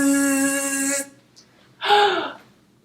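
A voice makes a steady buzzing saw imitation for about a second, then a short breathy burst follows after a pause.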